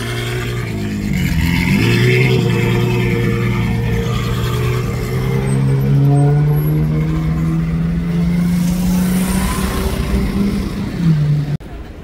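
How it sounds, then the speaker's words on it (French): Sports car fitted with a Gintani exhaust revving loudly on a street in Cannes, a rising engine note climbing steadily over about ten seconds before cutting off sharply. "Les échappements Gintani sur celle-là. À mon avis, elle peut chanter très fort."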